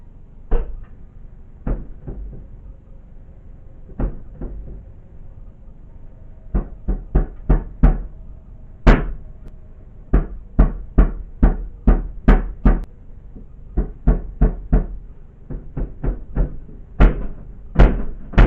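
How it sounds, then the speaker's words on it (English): A kitchen bin lid bangs open and shut over and over, sharp knocks and slams arriving in irregular bursts, some clustered rapidly, others spaced apart, fairly close and loud against a quiet room with no talk. "Her bin lid even starts opening and slamming shut repeatedly."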